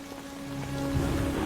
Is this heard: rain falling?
yes